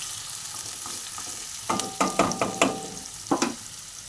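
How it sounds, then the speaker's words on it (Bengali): Onions and garlic frying in a pan under a constant close sizzle, with a run of sharp spoon scrapes and knocks against the pan as they are stirred. "এবার আমি এই রসুনগুলো দিয়ে দিলাম। রসুনগুলো দিয়ে আর একটু ভালো করে নাড়িয়ে নেব।"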